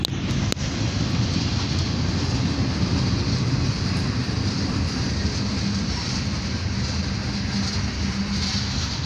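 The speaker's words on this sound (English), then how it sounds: "I can hear the train, those northbound trains." A steady, broad rumbling roar of a passing Norfolk Southern northbound freight train led by SD70ACU locomotives, continuous and fairly distant, with no talk.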